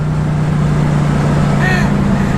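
A 1965 Shelby Mustang GT350 drones loudly from inside the cabin while driving, a steady low engine hum with constant road and wind roar throughout.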